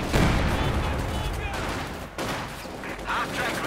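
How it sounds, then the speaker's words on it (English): StG 44 assault rifles fire in Company of Heroes 2 as a dense battlefield fusillade of overlapping rifle shots and distant blasts, steady and moderately loud throughout. "this Panzer squad is doing what it can as well, holding up here behind a small wall, tearing down the conscripts with their Sturmgewehrs"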